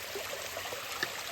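Small waterfalls on a hillside stream in a wooded clough give a steady, soft rush of trickling water, fairly faint and continuous, with no voices.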